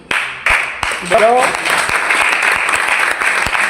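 Congregation applause during a Punjabi church sermon: a loud, dense wash of many hands clapping fills the room, with a few sharper individual claps and a brief voice rising through the crowd noise.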